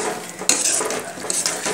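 Pointed gourd curry cooking in milk in a pan, stirred with a spoon: a short burst of close scraping strokes over a soft bubbling sizzle.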